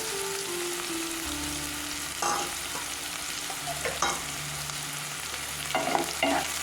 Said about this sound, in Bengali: দিয়ে নেড়ে নেবো ভালো করে সব সবজির সাথে মিশিয়ে নেব